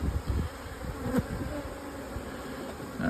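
Honeybees buzz steadily around an open nuc hive, a close, continuous drone with a few louder passes as individual bees fly near.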